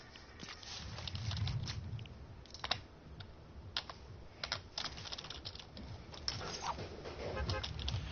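Rapid clicking keystrokes on a computer keyboard, irregular bursts of typing close to the microphone, faint and alone.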